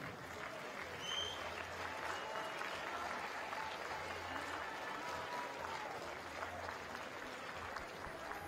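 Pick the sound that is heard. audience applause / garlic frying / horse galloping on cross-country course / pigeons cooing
audience applause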